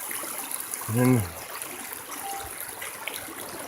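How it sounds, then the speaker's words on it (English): A river stream flows steadily at a woodland river crossing on a bug-out training hike, a soft continuous rush and trickle with a brief spoken word near the start. "here's our second river crossing"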